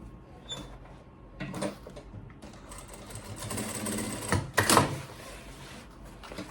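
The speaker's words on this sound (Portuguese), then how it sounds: "Vou encontrar aqui centro com centro também, vou fazer uma costurinha." Sewing machine stitches an insulated lunch bag in short bursts, a brief run near the start and a louder, longer run toward the end, with quiet handling between.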